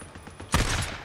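Gunfire in the Days Gone video game: a sudden loud burst of shots about midway through, its noisy crackle trailing off over the rest of the moment, with no talk.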